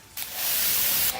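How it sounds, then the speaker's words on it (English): A pressure washer spraying a black Corvette C6 Z06 during a car wash, one close burst of hissing water spray lasting about a second, fairly loud with no talking. "they can hold up to the pressure washer a little bit better"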